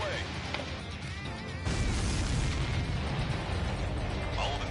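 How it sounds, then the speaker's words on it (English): Missiles blowing up in a video game: a heavy, broadband explosive roar bursts in partway through and rumbles on loudly to the end, with a voice talking over it. "All of the missiles have been destroyed."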